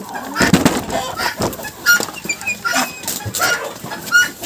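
Chickens clucking in a backyard coop, a series of close, irregular clucks and short calls at moderate loudness with no talk over them.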